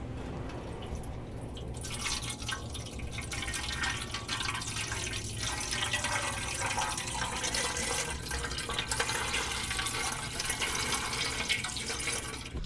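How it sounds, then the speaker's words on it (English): Gasoline pours into the fuel tank of a vintage Suzuki GT380 motorcycle. The liquid makes a continuous close splashing and trickling that runs for the whole stretch with no talk. "And that is ready to be poured into the gas tank. All right, let's pour it in."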